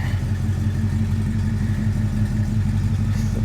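A 1960 Dodge Polara's engine idles and runs steadily up close, a smooth low rumble with even harmonic drone and faint clatter, no speech over it.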